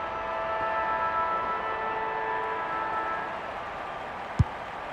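Final siren at an Australian rules women's football match, a long steady tonal wail heard over low crowd noise at moderate distance, fading out near the end, followed by a single sharp thump.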